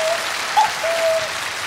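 An audience at a televised singing contest breaks into dense, steady clapping, with a few thin whistled tones, like a voice imitating a cuckoo, riding briefly over the applause.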